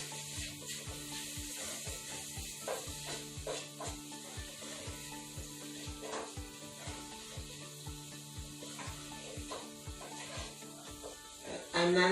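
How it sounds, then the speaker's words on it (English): Turmeric and black pepper being stirred into a pot of smoky lentil soup with kale, a steady scraping, sizzling stir with regular soft knocks of the spoon against the pot throughout, close and moderately loud, no talking. "I'm going to mix that all in"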